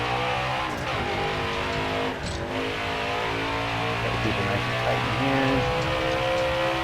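Race car in NASCAR Heat 5 on the Indy road course, a loud, continuous engine roar that shifts pitch with revving and gear changes, with someone talking over it.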